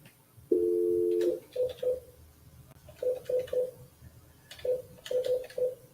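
Telephone tones on a call to a number no longer in service: a steady dial tone, then short bursts of keypad beeps tapped in quick irregular groups.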